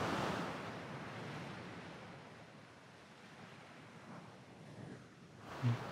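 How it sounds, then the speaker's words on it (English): Ocean waves plunge and break, a broad roaring wash of surf that swells loudly at first and then settles into a softer continuous rush, mixed with some wind noise. "And then you have some plunging waves."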